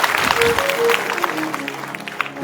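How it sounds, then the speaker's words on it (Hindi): A yoga class claps as a group for a student, a short steady burst of applause close by that fades slightly toward the end. "जोरदार ताली बजाओ एक बार"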